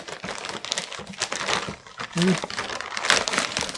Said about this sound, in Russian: И Машенька сейчас быстро распорит этот пакет.